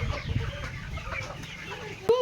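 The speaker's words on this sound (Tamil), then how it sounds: "எல்லா கோழியுமே இருக்கு." Chickens clucking near a house, scattered soft clucks and a sharper squawk near the end, fairly close amid low background noise.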